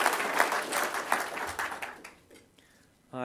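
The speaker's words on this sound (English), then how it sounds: "So can we have a round of applause," An audience at a 2010 New Zealand open source awards ceremony gives a round of applause for an award recipient named Leanne Dalziel. Dense clapping fades over about two seconds into near quiet, and a voice begins speaking at the very end.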